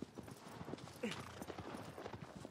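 Horse hooves clip-clopping in a steady galloping rhythm in the Shadow of the Colossus video game, faint and continuous, with someone talking over it.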